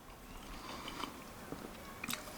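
A big bite into hot homemade pizza, with a few soft crunchy bites and chewing sounds close to the mouth, fairly quiet and with no talking.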